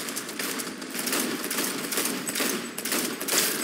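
Rapid, sustained gunfire from the video game Cyberpunk 2077 rattles on without a break, dense automatic bursts merging into a continuous crackle at steady loudness, with no voices over it.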